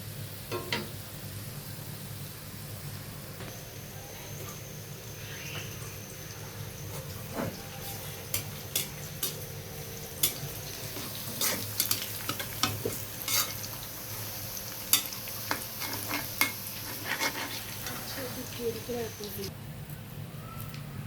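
Garlic frying in oil for a dal tempering, a low continuous sizzle with frequent sharp clinks and stirring taps, a voice speaking at times over it.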